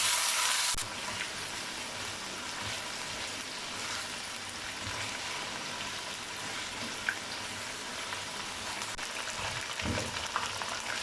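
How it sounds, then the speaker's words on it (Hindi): Chicken pieces sizzle and fry steadily in a hot pan for spicy Bombay chicken biryani, a continuous close crackle with occasional stirring scrapes and a brief louder burst at the start. "अब इसमें चिकन डालेंगे। अब इसे भी 2 से 3 मिनट के लिए भूनेंगे।"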